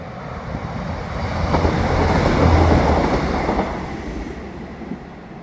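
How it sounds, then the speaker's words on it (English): A train rolls past with a rising then fading rumble and rattling wheels, loudest in the middle before drifting away. "We got the train."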